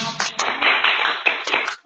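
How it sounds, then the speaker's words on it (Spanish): A short burst of clapping from a church congregation, dense and sustained for a couple of seconds before fading out. "Den un aplauso a Dios."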